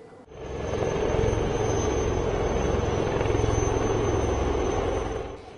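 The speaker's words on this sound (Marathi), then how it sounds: "घिरट्या घालणारे हेलिकॉप्टर्स" Military helicopters hovering over a training-ground combat demonstration at Deolali, Nashik: a steady, loud rotor drone swells in and holds for several seconds before cutting off, heard alone without speech.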